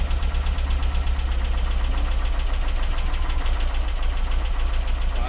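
A Porsche 914 engine fitted with twin Weber carburetors idles steadily nearby, a low, loud, even rumble with a slightly uneven knocking pulse running throughout.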